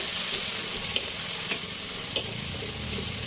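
Pinakbet vegetables with crab sizzle steadily in a hot pan while a spoon stirs them, giving a few soft scrapes and clacks over a constant frying hiss, close by and without speech.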